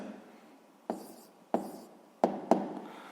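A pen or marker writing numbers on a board during a sixth-grade maths lesson: four crisp taps, the last two close together, each followed by a brief scraping stroke, close-up, without speech.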